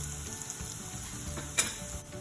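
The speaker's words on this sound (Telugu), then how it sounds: "తర్వాత కట్ చేసి పెట్టుకున్న వెల్లుల్లి వేసుకొని ఫ్రై చేసుకోండి" Chopped garlic sizzles in hot oil in a kadai while cooking palak paneer, a continuous frying hiss with a brief louder crackle near the end and no talking.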